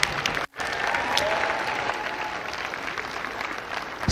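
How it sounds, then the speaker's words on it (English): Students at an FTC Skystone robotics championship give a sustained round of applause, a dense, steady wash of clapping that briefly drops out near the start and then carries on evenly throughout. "Give yourselves a round of applause as well"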